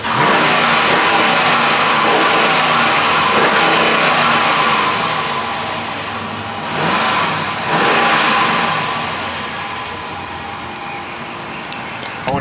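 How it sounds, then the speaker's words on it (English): A Hemi V8, still on its stock exhaust, rumbles steadily and is revved once, the engine note rising and falling in a brief swell before it settles back into a loud continuous drone. "Let me rev it one time."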